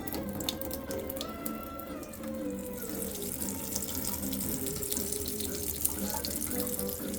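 Water runs steadily from the faucet of an Ukoke 8-stage reverse osmosis filter system, a continuous splashing stream into a sink with faint tonal whine and slight clatter throughout.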